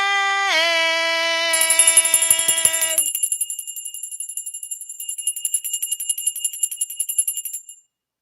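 An electric bell rings loudly and alone for about eight seconds, starting as a steady sustained tone and then breaking into a rapid, continuous metallic trill that stops abruptly.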